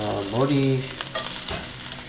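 Shrimp heads stir-fried in a cast-iron or stainless pan as a base for cream shrimp sauce, giving a steady loud sizzle with scraping stirs, briefly under a few spoken words.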